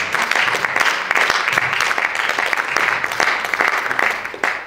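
Congregation at a church service applauding in acclaim of the Lord, dense continuous clapping filling the space at steady loudness, with faint voices mixed in.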